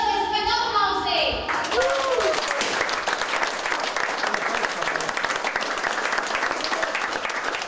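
Audience applause at a Latvian celebration, a steady dense wash of clapping from a crowd that fills the whole stretch after a brief opening of speech and music.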